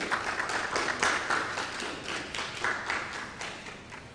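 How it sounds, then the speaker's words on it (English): Audience clapping for school quiz contestants at a national science and maths quiz preliminary contest, a steady patter of many hands at moderate level that slowly thins and fades toward the end, with no talk over it. "Oh, clap for them, they've done well."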